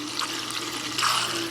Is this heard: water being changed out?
yes